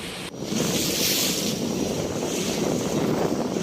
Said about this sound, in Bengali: উত্তাল সমুদ্রে যেতে মানা মৎস্যজীবীদের চল্লিশ থেকে পঁয়তাল্লিশ কিলোমিটার বেগে ঝোড়ো হাওয়া